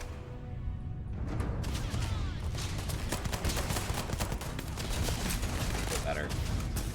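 Video game gunfire: a busy stretch of rapid, overlapping shots and bursts, moderately loud and continuous for several seconds, heard mixed with game background sound.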